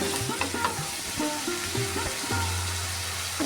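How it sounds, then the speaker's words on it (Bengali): Prawns go into a pan of simmering potato curry with eggplant, giving a steady close sizzle and bubbling broken by soft stirring clatter throughout. "এর মধ্যে আমি চিংড়ি মাছগুলো দিয়ে দিচ্ছি"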